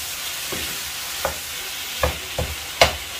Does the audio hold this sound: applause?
no